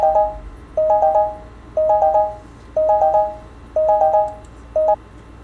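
An electronic phone ringtone in a video game trills in short repeated bursts, about one per second, loud and clear with nothing else over it.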